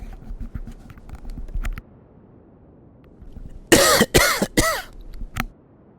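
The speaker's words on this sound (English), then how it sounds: "I had to clear my throat again." A man clears his throat with a quick run of harsh, close coughs and rasps, several forceful bursts after softer handling noises.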